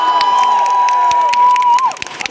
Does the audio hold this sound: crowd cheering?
yes